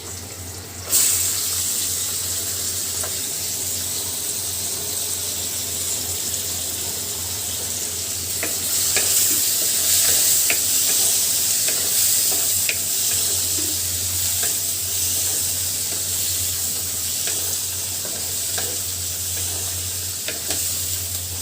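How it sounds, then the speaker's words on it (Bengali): Chopped onion frying in a pan over a hilsa fish preparation, with a steady hiss of sizzling oil and intermittent scrapes and clinks of stirring throughout, close and continuous. "পেঁয়াজটা খুব সুন্দর করে ভাজি করতে হবে।"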